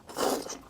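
A single soft, close crunchy bite into a gluten puff stuffed with meat, brief and quiet with a little chewing after, no talking.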